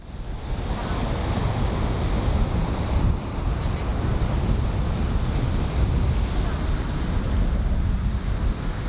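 Gulf Coast waves break on a white sandy beach in a continuous, close wash of surf, heavily mixed with wind buffeting the microphone, with no talk.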